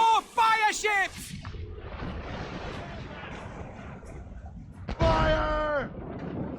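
Ship cannons boom in a naval battle against fire ships in the video game Assassin's Creed Rogue, with heavy blasts and rumble under shouted voices at the start and end of the stretch.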